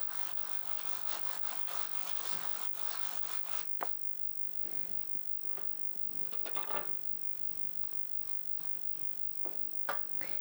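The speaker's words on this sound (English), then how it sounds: "Use a sanding block to just gently sand any imperfections or any bubbles that have dried on." Sanding block rubbed gently over a piece painted with French lime paint, giving soft, uneven scratchy strokes close by with brief pauses and a few sharper scrapes, no talking.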